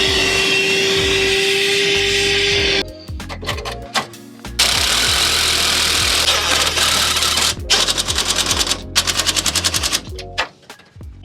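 A power drill boring holes into a lavacrete wall for an electrical box, running in loud sustained bursts with short pauses and restarts, the motor's whine and rattling bite steady and close with no talking.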